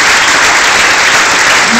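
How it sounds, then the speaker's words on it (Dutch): Loud, dense applause from a concert audience in Aalst, a continuous roar of clapping filling the whole moment without pause. "Maar toch zou ik een heel groot applaus willen vragen"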